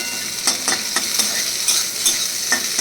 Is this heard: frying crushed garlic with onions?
yes